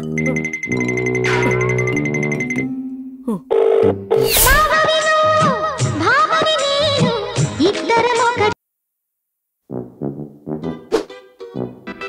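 An old-style telephone bell rings loudly in repeated bursts, mixed with music-like tones, then a short silence before a few sharp clicks and beeps.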